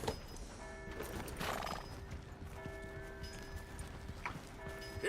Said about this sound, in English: Here's your horse back